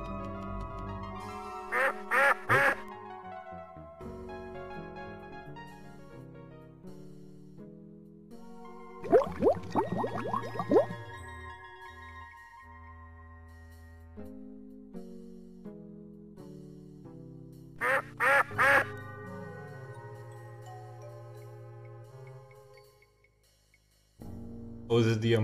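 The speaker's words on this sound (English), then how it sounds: "is it the umbrella that's fucking quacking?" Repeated quacking from an umbrella in the point-and-click adventure game Sam & Max Hit the Road, sounding in several short bursts over game music.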